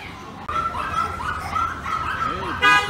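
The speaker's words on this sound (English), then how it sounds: "Hey, there's the puppy." A puppy at a pet shop on Taiping Street in Changsha gives short yips and whimpering barks, close by, amid a busy background of street voices.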